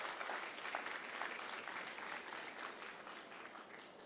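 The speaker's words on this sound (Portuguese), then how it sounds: "Salva de palmas para o Senhor" A church congregation applauds for the Lord during a worship service with the Lord's Supper. The clapping is dense and continuous at a moderate level and fades slightly toward the end.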